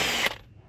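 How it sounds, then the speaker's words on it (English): Ratchet with an 18mm socket breaking loose brake caliper bolts during wheel bearing, pad and rotor work: a brief, dense burst of clicking and metal grinding that cuts off abruptly, leaving quiet. "Get yourself an 18mm socket."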